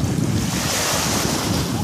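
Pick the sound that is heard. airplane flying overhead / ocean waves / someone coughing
ocean waves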